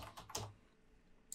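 A few quick keystrokes on a computer keyboard, close and faint, followed by a pause and one last key tap, as a password is entered.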